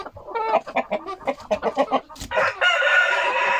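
An Ameraucana rooster clucks a few times, then lets out a loud, drawn-out crow, close to the listener.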